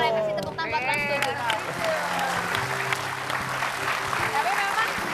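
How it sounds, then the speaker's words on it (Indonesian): Studio audience applause on an Indonesian television talk show, a steady, full wash of clapping that runs throughout alongside background music. "Boleh kasih tepuk tangan buat Trans 7."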